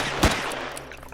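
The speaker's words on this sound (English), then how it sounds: "We're getting better at walking backwards while shooting things" A single loud gunshot cracks out in the sci-fi survival game Empyrion, one sharp blast followed by a short fading tail.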